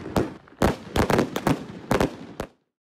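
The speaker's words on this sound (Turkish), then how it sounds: "Iğdır Devlet Hastanesi önünde oluşturduğu platformda saat 21'de havai fişek gösterisiyle sağlık çalışanlarına "Yanınızdayız" mesajı verdi" Fireworks burst in front of a state hospital in Iğdır during an evening display, a rapid series of sharp cracks and booms with short echoing tails, heard at moderate distance before stopping abruptly near the end.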